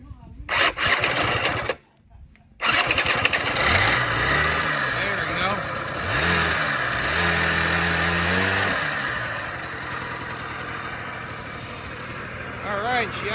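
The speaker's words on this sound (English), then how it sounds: "Alright, she idles." A 1986 Honda Spree scooter with a previously plugged muffler cranks, stalls briefly, then catches and idles with a buzzy small-engine drone that rises and falls in pitch. Talk runs over the engine throughout.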